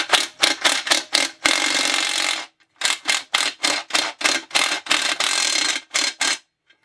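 An impact wrench presses a bearing into a Husqvarna 372 chainsaw case, hammering in loud, rapid bursts separated by short pauses, with one longer sustained run and a change in tone as it seats.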